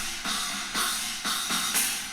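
Left and right China cymbals with EQ applied, struck in a steady rhythm of bright, trashy crashes about every half second, close and loud with no voices.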